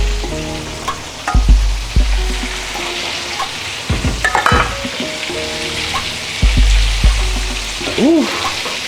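Chicken sizzles and crackles loudly in a hot pan for soul food cooking, with clatters of stirring and utensils over the steady frying hiss.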